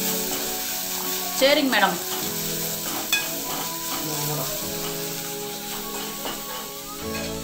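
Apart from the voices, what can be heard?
ginger and garlic sautéing in pan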